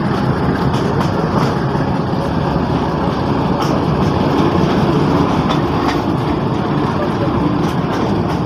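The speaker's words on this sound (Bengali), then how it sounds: "চিলমারি কমিউটার ট্রেনটি পাঁচটি রেল স্টেশন ছেড়ে যাচ্ছে।" The Chilmari Commuter train runs slowly on a rural rail route between Ramna Bazar and Kaunia Junction in Bangladesh, a loud continuous rumble of wheels on rails with faint rhythmic clacks, heard from inside the carriage.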